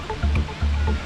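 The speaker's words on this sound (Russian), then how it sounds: "Мы сейчас спускаемся к самому водопаду." Waterfall on the Hermon stream heard nearby, a steady broadband rushing roar of falling water with low rumbling surges, no voices.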